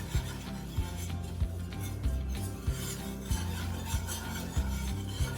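A spoon stirs half a cup of flour into melted butter in a pan, a continuous close scraping and rubbing with a regular rhythm of soft knocks against the pot.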